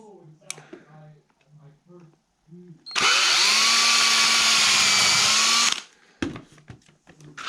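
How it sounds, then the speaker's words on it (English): A power drill whines steadily for about three seconds, flanked by brief talk before and after, with clicks once the motor stops. "I'm gonna pre-drill."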